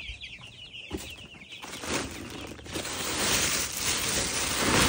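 Broiler chickens in a coop cluck and chatter. Several high calls come early, then the flock grows into a busier, louder mix of clucks and shuffling that builds toward the end, with no talk.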